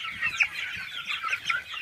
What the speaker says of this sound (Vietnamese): Đây là bầy gà mình nuôi trong thời gian là 30 ngày các bạn